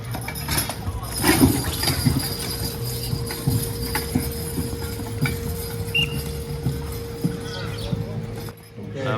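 Horse hooves clopping on ground at a county fair lightweight horse pull, irregular muffled clip-clops mixed with steady background hum and crowd chatter, voices talking throughout.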